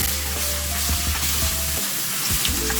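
Pork with oyster sauce sizzling in a frying pan, with continuous loud frying and repeated scraping strokes of stirring close by.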